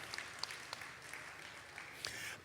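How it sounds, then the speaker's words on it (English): Applause from the audience at an annual general meeting of a Nigerian travel agents' association, a faint, steady patter of clapping with a few louder individual claps standing out, heard from a distance. "Please let's clap again for this"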